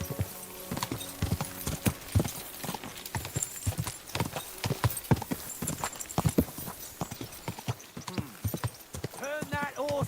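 Horse hooves clip-clopping in the medieval game Kingdom Come Deliverance 2, a steady run of sharp, close hoofbeats with a snorting whinny near the end; a voice speaks briefly over the riding.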